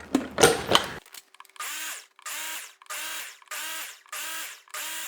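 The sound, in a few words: mixing banana, cottage cheese and vanilla muffin batter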